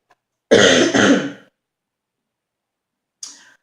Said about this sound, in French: Je risque de tousser pendant cette vidéo